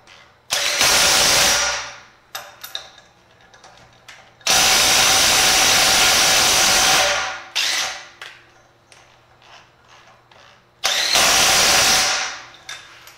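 A DeWalt impact wrench spins off lug nuts in three loud, close bursts of rapid hammering whine, with quieter clicks and handling noises in the pauses between.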